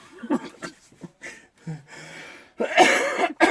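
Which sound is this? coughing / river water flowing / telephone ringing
coughing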